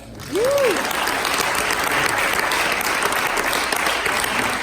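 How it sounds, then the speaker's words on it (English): A congregation applauds graduates in a sustained, dense wash of clapping that fills the space steadily for several seconds, with a brief rising-and-falling whoop or voice near the start. "Y'all can clap for them"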